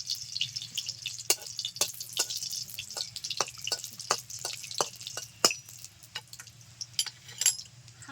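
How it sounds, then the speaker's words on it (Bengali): Dry red chillies crackle and spit in hot oil for a village-style potato and ridge gourd prawn curry, giving sharp, irregular pops over a low steady hiss, close and fairly quiet, with no talking. "তেল গরম হয়ে গেছে দিয়ে দিচ্ছি দুটো শুকনো লঙ্কা"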